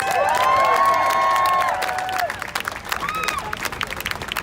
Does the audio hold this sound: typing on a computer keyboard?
no